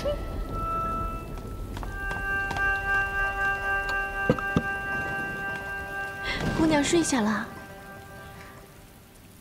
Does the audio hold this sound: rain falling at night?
yes